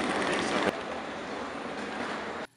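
A train in Romania begins to move with a steady, dense rumble and one sharp clack early on, close and unbroken until it cuts off abruptly.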